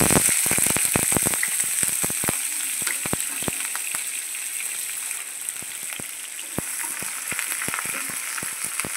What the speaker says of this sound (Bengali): আর তেলটা গরম হয়ে গেলে আমি দিয়ে দেবো পেঁয়াজটা আর কাঁচা লঙ্কাটা।